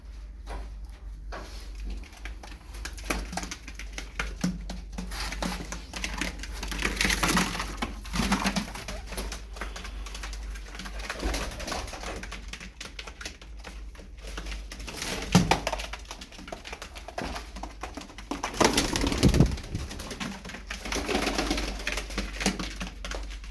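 Tumbler pigeons coo steadily through a continuous, moderately loud flock murmur, with overlapping calls swelling at times and no speech.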